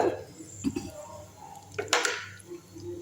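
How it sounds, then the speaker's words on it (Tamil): Mustard seeds crackle and pop in hot oil in a home kitchen while spicy paniyaram is being made, with a few quiet scattered pops, one louder sizzling burst near the middle, and light clinks of cookware. "எண்ணெய் காஞ்சிடுச்சிங்க முதல்ல கடுகு எடுத்து போட்டுக்கலாம்"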